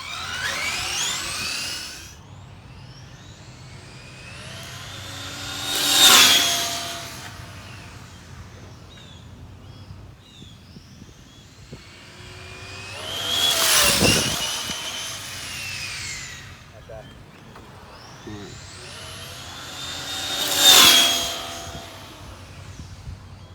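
A Kyosho Inferno GT2 RC car fitted with a Hobbywing 4274 2200 kV motor makes three whining high-speed passes, each swelling loud as it nears and fading as it pulls away, with quieter gaps between.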